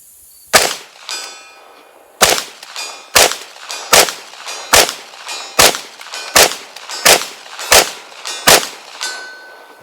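PSA AR-V rifle shots ringing steel targets at a range, about eleven sharp cracks at a steady pace after an opening pair, each followed by a bright metallic ring that hangs briefly.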